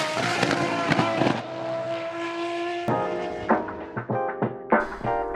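A naturally aspirated 6.5-litre V12 race engine screams up toward 11,000 RPM, a loud, sustained high-pitched wail with a steady harmonic tone, followed by a series of sharp throttle blips and crackling revs near the end.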